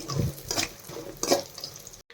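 Ingredients for mango coconut chutney fry and get stirred in a pan, with a few short scraping and sizzling bursts over about two seconds before cutting off.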